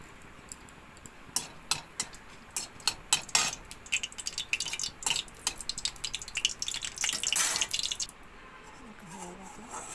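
Dried red chillies spitting and crackling in very hot mustard oil in a pan, a rapid burst of sharp pops and sizzle that fades after about eight seconds.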